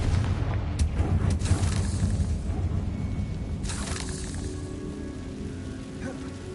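A Confringo blasting spell explodes in the Hogwarts Legacy video game, a heavy rumbling boom that rolls on loud throughout, with sharp crackling bursts layered over the low roar.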